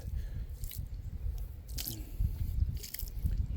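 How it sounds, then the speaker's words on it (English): Water poured onto a freshly sawn white oak log slab gives soft splashing, squishing and dripping sounds in short irregular bursts, fairly quiet and close, with no talk. "Let's pour a little water on here"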